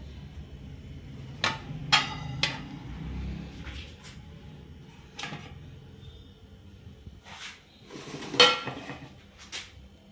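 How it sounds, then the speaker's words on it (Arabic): Chicken pieces go onto a metal grill rack with several sharp metallic clanks and taps scattered at irregular intervals over a low background rumble. "هنجيب بقى الشبكه دي وهنحط ايه الفراخ عليها"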